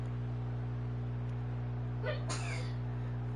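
A small animal gives one quick, soft sneeze over a steady electrical hum, fairly close but quiet.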